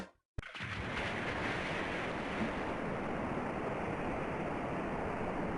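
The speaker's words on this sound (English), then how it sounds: "Water spouted fiercely from the corridor wall." Water gushes fiercely from a corridor wall in the visual novel game Ever17, beginning abruptly after a brief silence and continuing as a loud, steady roaring rush with no voices.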